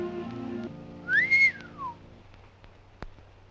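A person gives a single short whistle that rises and then falls away, heard clearly against a quiet background.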